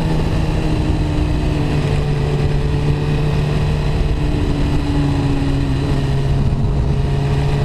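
A 2013 Suzuki GSX-R1000 motorcycle engine drones loudly and steadily during a test ride, with sustained tonal whine and slowly shifting pitch under rushing wind noise.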